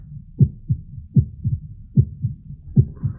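A steady heartbeat pulses in close, muffled lub-dub pairs, deep and regular, repeating about every second.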